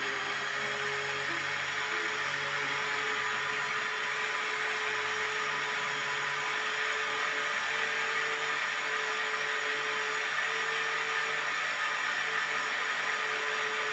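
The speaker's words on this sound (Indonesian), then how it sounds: "Di blender kira-kira ya 1 menit" An electric blender mixes beaten egg into leker batter, giving a continuous steady whirring hum that holds even and loud throughout, with no voices.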